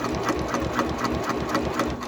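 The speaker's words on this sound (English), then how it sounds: "I'm going to stop there and rotate and sew diagonally" A sewing machine runs steadily, stitching a diagonal line across a tote bag, its needle making a fast regular pulsing hum that stays close and continuous throughout.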